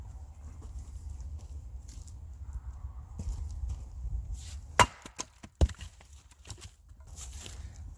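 An axe strikes a small round of wood with a cluster of knots, giving a couple of sharp, cracking hits amid a quiet outdoor background.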